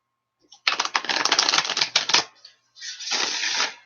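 Cards are riffled and shuffled in two quick bursts of rapid crisp flutter, with a short pause between them, close by.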